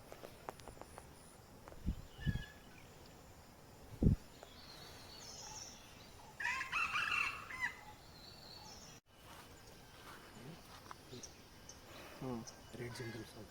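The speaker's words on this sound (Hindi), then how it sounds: "Red jungle foul." A red junglefowl crows in the jungle, a short rough call rising out of steady insect buzz in the outdoor background. A few other low thumps and calls can be heard nearby.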